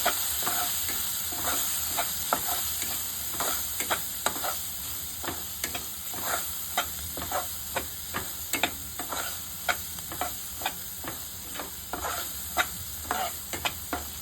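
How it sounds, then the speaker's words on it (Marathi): Spices for mushroom masala are stirred in a hot pan, a continuous soft sizzle broken by regular scraping and tapping of the spoon against the pan, steady and close with no talk. "आता आपण हे सगळे मसाले ढवळून घेऊया"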